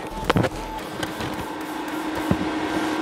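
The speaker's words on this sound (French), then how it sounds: "je vais venir souder ma platine comme ceci" A Mecafer Mikro MIG inverter welder lays a bead on a steel plate, giving a steady, close crackling hiss with a few sharp pops near the start.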